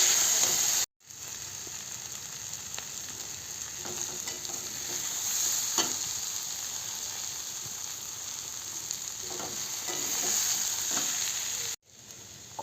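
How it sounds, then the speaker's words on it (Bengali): Peas and potatoes for ghugni frying in a pan and stirred now and then, with a steady close sizzle and scattered scraping strokes running through. "এখন আমি এতে মটর আর আলুটাকে দিয়ে দেবো। অল্প কিছুক্ষণ কষিয়ে নেব।"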